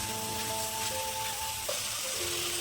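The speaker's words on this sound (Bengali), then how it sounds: "আস্তে আস্তে করে অনেকক্ষণ থেকে এবারে মশলাটাকে কষাতে হবে" Tomato masala cooking slowly in a pan, with water added, gives a steady, continuous low sizzle. Faint tonal hums run through it, and no one speaks.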